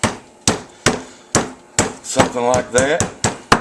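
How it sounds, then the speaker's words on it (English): A hammer pounds cheap steak to tenderize it: about nine sharp, close thwacks at an uneven rhythm, with a person briefly speaking between blows. "I'm going to beat them down a little bit with a hammer here"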